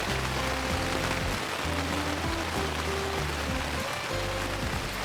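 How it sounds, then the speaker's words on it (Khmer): Steady heavy rain pours on Aural Mountain, Cambodia's highest peak, a dense continuous hiss of drops filling the whole stretch without pause, close and loud, with no voices. "ទេភ្លៀងហ្មងកំពុងភ្លៀង"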